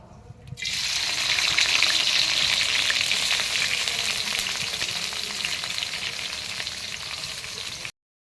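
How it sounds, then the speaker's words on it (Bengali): Freshly harvested onions and chilies fry in a pan for a beef brain curry, a dense, loud sizzle that starts abruptly and holds steady with faint stirring until it cuts off. "পেঁয়াজ ভাজা হয়ে গেছে"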